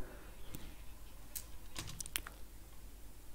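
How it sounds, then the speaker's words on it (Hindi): A receipt number typed on a computer keyboard: a few quiet, scattered key clicks over faint room hiss, with irregular spacing and no talking. "अब आपको यहाँ पे उस रसीद संख्या को टाइप करना है"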